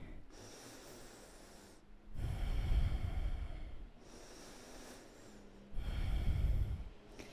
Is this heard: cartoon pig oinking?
no